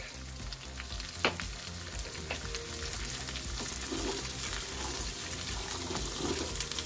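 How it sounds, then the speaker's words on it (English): Carrots, onions and garlic sauté in oil in a pan, giving a continuous close sizzle with one sharp click early on and no talking. "you'll saute this for about 3 to 5 minutes until the onions start getting translucent and the carrots begin to soften"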